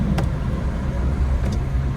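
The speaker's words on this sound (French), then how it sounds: "tu t'entends bien le bruit du turbo, T'as vu? ça siffle bien" A Renault Clio 3 Initiale Paris engine drones steadily up close with a faint high turbo whistle rising over the rumble.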